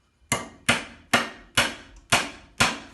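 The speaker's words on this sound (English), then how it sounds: "Grab a hand spike and your hammer." A hammer drives a steel hand spike into wood during carpentry work, six sharp, ringing strikes at a steady, even rhythm, loud and close with no talking.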